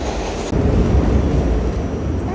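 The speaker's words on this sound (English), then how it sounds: "here comes the subway now" A New York City subway train rolls into the station with a loud, steady low rumble that fills the platform, jumping in level after a brief break and holding without voices.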